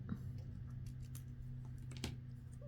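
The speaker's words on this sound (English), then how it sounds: "Let me just cut it down a little bit." Scissors snip a paper topper for a twisted ribbon card decoration, a few soft, quiet cuts over a steady low background hum.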